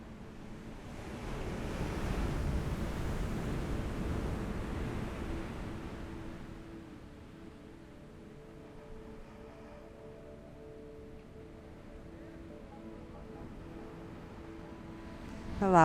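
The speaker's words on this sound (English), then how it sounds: "allowing the sounds of the waves to wash over you." Ocean waves wash and surge in a steady, broad rush, swelling loudest early on and then settling into a softer, continuous roll with faint wind, no voices present.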